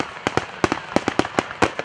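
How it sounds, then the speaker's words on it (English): A Fourth of July fireworks show pops and bangs in a rapid, uneven string of sharp explosions, fairly loud with no voices. "no 4th of July event would be complete without a spectacular fireworks show"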